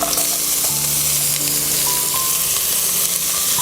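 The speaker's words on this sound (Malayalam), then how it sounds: "ഇനി നമുക്കൊന്ന് ചെറുതായിട്ടൊന്ന് വഴറ്റിയെടുക്കാം." A thinly sliced medium onion with ginger and green chili sautés in oil with mustard seeds for a Kerala pachadi, giving a loud, steady sizzle close by, with faint stirring and a couple of thin tonal hums.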